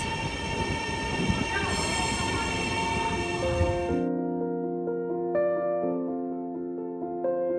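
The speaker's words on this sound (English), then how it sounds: "Train's here. It's going to take us to the airport." An airport train rolls into a station in Kuala Lumpur with loud rushing wheel noise that cuts off abruptly, followed by sustained tonal squealing and humming as it settles at the platform.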